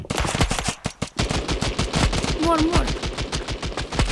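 Rapid, loud automatic gunfire from a Counter-Strike style shooter video game, with dense bursts of shots running almost continuously; a voice cuts in briefly.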